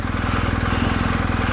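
A 2020 BMW R 1250 GS boxer motorcycle engine runs with a steady, rhythmic mechanical throb, revving evenly at close range with no voices.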